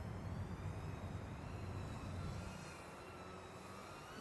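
A NanoFly20 micro FPV drone on a 1S battery, its tiny motors held near full throttle, giving a steady, dense whine and buzz that hangs at an even level throughout.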